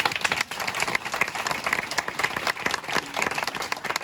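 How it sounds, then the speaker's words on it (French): An audience at a live show in Montreal applauds steadily throughout, a dense, even patter of many hands clapping at moderate volume. "On applaudit Samuel"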